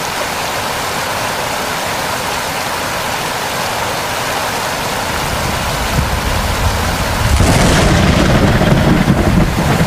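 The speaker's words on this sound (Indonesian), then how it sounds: "Aku harus bermalam di jembatan ini sambil menunggu hujannya reda." Steady rain pours in a Sakura School Simulator game scene at a bridge, a dense broadband hiss that swells louder and heavier for the final couple of seconds, with no voices.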